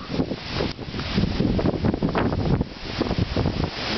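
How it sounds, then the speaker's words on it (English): A strong gust of wind roars across a lakeshore in Manitowoc, Wisconsin, during a severe wind storm, a steady, loud, rushing buffet against the microphone that swells and fluctuates throughout, with no voices. "There it is, a gust."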